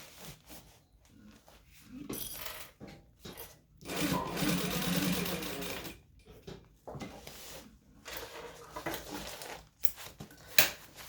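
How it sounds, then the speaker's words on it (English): A sewing machine basts fabric for a shade in several separate bursts of rapid mechanical stitching, with quiet gaps and faint handling noises between runs. "I think I will baste these."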